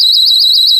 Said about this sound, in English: It's a 120 decibel alarm.